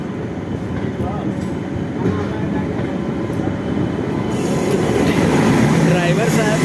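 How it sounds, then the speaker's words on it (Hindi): Saharsa Humsafar Express passenger train pulling away again after a halt at a signal, a steady rolling rumble of wheels and carriage noise that grows slightly louder as it gathers speed, with faint talk in the background. "हमारी जो ट्रेन है वो रुक गई थी, बट अब सिग्नल जो है वो ग्रीन हो गया है, तो अब ये फिर ये आगे बढ़ गई है"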